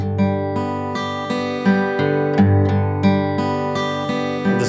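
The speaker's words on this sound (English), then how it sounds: "an arpeggio is a chord broken down into single notes" Single notes of a guitar chord plucked one at a time in a slow, even arpeggio, each string ringing on over the next, close and clear with no voice over it.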